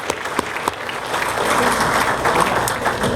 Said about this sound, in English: I want to give really a round of applause to Joe